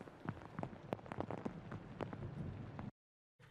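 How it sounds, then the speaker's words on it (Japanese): Heavy rain and gusting wind roar against the microphone as Typhoon No. 7 approaches Kushimoto, Wakayama Prefecture, in August 2023, a dense buffeting rush with sharp drop impacts that cuts out abruptly near the end. "台風が近づく和歌山県串本町では次第に雨と風が強くなってきています"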